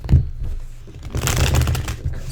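Tarot cards are shuffled by hand in quick riffling bursts, a short flutter near the start and a longer, louder riffle in the middle, heard close and alone.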